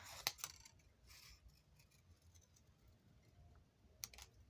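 Paper is fussy cut with scissors in a quiet room: a few sharp, close snips come at the start and end, with faint rustling between.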